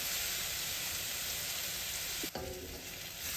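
Onions sautéing in sesame oil in a pan, a steady close sizzle and frying hiss with a brief clatter of stirring near the middle, no voices.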